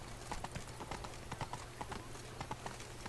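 Horse hooves beat steadily in The Witcher 3: Blood and Wine, a brisk repeated clip-clop of a galloping mount over continuous game ambience, moderately loud and close.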